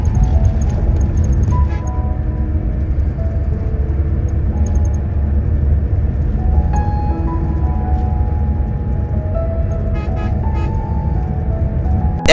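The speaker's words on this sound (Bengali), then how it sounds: "সেই জায়গা থেকে বেশ ভালোই ইঞ্জিন নয়েজ পাওয়া যাচ্ছিল, কারণ এই বাসগুলো অনেকটাই পুরনো" Steady, loud low drone of an old Hanif Volvo coach engine heard from a rear seat, a continuous rumble with faint tonal whines shifting in pitch and occasional rattles, with no talking.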